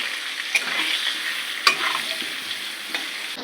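Potato pieces sizzling in oil in a pan while being stirred for a home-style mutton curry: a continuous close hiss broken by several crisp scraping clicks of the spatula.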